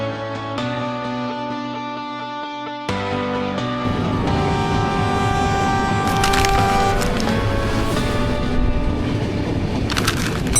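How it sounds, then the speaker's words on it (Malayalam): A double-decker express train runs from Bangalore to Coimbatore, with a steady, close rumble of the carriage throughout and a sustained horn-like tonal drone layered over the rolling noise. "നമ്മൾ ബാംഗ്ലൂരിൽ നിന്ന് കോയമ്പത്തൂർ പോണത് ഡബിൾ ഡെക്കർ ട്രെയിനിലാട്ടോ"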